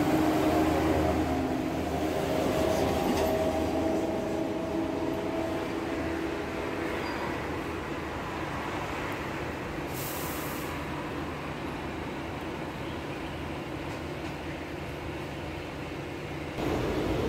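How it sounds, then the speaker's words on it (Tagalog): A metro train rumbles past nearby with a steady roar and rattle of wheels, gradually fading, with no talking. "Yan, MRT."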